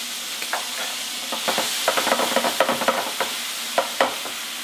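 Fresh tomatoes go into a pan of sizzling shrimp for penne arrabbiata, a constant close frying hiss broken by scattered scraping clicks of stirring, with no voices.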